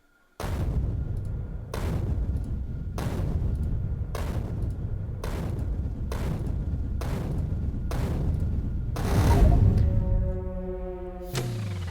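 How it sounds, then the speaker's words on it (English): A nuclear reactor explodes in the factory-building game Factorio, a deep, muffled woomph swelling near the end over a steady, repeating pattern of regular thudding blasts and game noise. "When it blew up, it just woomph."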